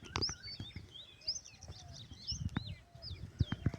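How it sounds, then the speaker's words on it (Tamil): Small birds chirp around weaver-bird nests in a forest, with many quick, high tweets and trills overlapping near and far, and a few soft thumps underneath. "இதுக்குள்ளே ஃபுல்லாக குருவியல் எல்லாம் நிற்கிது பாருங்க."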